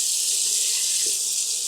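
Water pours steadily into a pan of fried potatoes, a close, continuous hissing splash with no talking.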